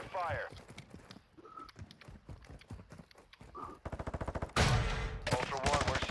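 Gunfire in a shooter video game: sharp bursts of rapid automatic shots crackle loudly near the end, after scattered single cracks under radio chatter and talking voices.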